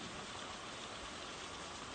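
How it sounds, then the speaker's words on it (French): Steady rain falls as a dense, even hiss, continuous and moderately faint with no voices. "Qui sait jusqu'à quand il va pleuvoir?"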